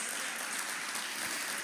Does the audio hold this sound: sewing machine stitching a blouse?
no